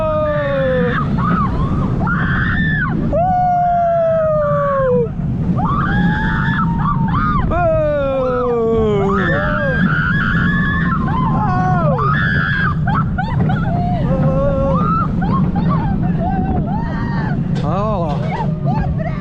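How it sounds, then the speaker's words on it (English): A fast-launch roller coaster at Plopsaland De Panne in Belgium rumbles loudly and steadily throughout the ride, with riders whooping and shouting over the roar the whole time. "here we go into one of the fastest accelerating launches in the world"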